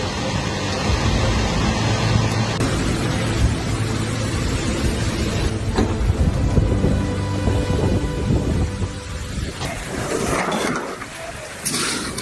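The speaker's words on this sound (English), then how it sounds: "now it's raining freezing cold hailstones" A hailstorm sweeping through a city, with heavy rain and hail pounding steadily and loudly, deep thunder rumbling underneath, and the downpour shifting in intensity toward the end.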